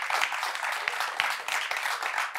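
Steady, dense clapping from a studio audience on a French quiz show runs throughout, close and unbroken with no voices over it.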